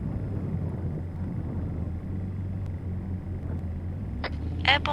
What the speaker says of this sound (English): Airborne engine sound.